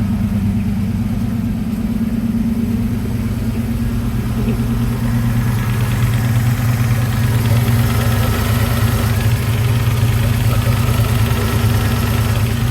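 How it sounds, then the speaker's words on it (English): A Ford Foxbody Mustang notchback engine runs steadily at idle for the whole stretch, a loud, continuous low rumble with a rattle from the top of the engine, where header bolts are missing. No one speaks. "That rattling in the top of the engine."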